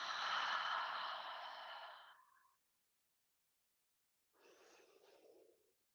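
A long, deep breath let out through the mouth during a quiet guided relaxation, a strong airy exhale of about two seconds, then after a pause a shorter, softer breath, close and with no talking.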